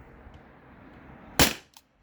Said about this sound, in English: here's the first shot on CO2